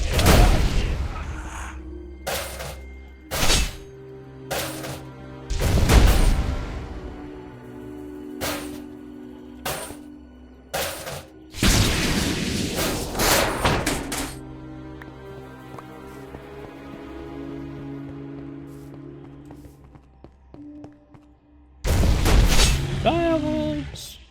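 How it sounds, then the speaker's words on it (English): Fireworks in Minecraft go off as a series of sharp booms and crackles, some loud and close, others fainter, spaced irregularly with quieter gaps between bursts. "Fireworks!"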